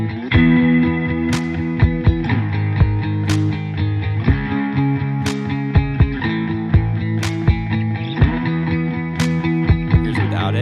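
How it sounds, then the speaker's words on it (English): Distorted electric guitar in the song, ringing out sustained whole-note chords that change every few seconds, loud and full with regular percussive hits on each bar. "It's playing whole notes, so literally the same chords, just ringing them out for 4 beats instead of strumming the 8th notes."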